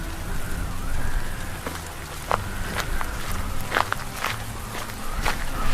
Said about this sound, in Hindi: तेज बारिश और ठंडी हवाओं के बीच काम पर जाने के लिए निकल पड़ता है